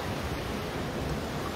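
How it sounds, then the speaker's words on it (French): Steady broadband roar of sea waves washing in, a continuous even rush of surf with no distinct breaks, moderately loud and without voices. "Le bruit de la mer. Ouais, il y a des vagues là, c'est impressionnant."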